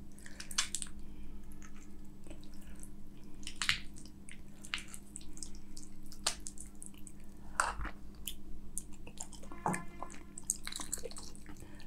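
Soft, close chewing of a home-cooked spicy mutton curry with moist squishes and wet clicks, steady and quiet throughout, with no talking.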